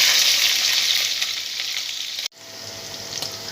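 Green chillies sizzle loudly in hot oil in a pan, a steady bright hiss that fades slightly before a sudden brief cut, then resumes more quietly, with no voices.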